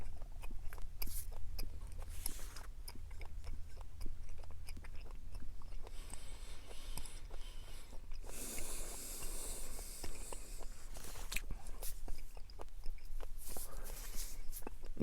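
Someone chews Extra Polar Ice mint gum close to the microphone, with a steady stream of wet, soft smacking and clicking sounds over a low hiss, quiet and continuous.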